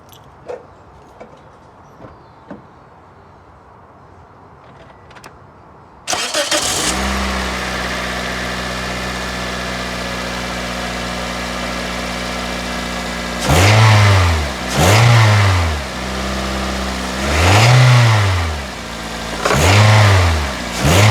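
A Toyota Matrix XR with a 1ZZ-FE engine, just back together with the O2 sensor reconnected, starts after a few faint clicks, settles into a steady loud idle, then gives several sharp revs that rise and fall in quick succession.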